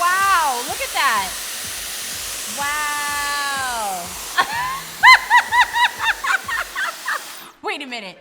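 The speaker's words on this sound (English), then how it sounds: "it really is drying my hair really fast" A Dyson hair dryer blows steadily while drying curly hair, its airflow a continuous whoosh that shifts in pitch as it moves, with a voice exclaiming over it and a rhythmic series of tones near the end.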